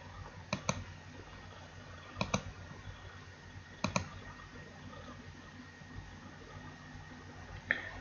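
A computer mouse gives a few sparse, crisp clicks, mostly in quick pairs, close and quiet against a faint steady background hum.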